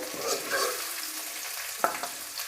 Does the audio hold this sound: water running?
no